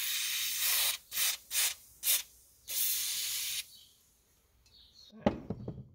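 Penetrating oil is sprayed into a seized 1968 JLO 292 snowmobile engine in several short hissing bursts and one longer spray, close and fairly loud, then a few quiet handling knocks.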